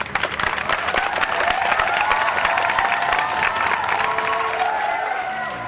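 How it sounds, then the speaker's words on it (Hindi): Live audience clapping and cheering at a comedy stage show, loud dense applause with shouts and whoops mixed in, holding strong for several seconds before easing slightly. "ओए ठोको ताली"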